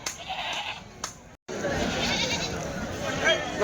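Goats bleating nearby in short calls at a goat market in Kadiri, mixed with voices talking, after a brief dropout partway through.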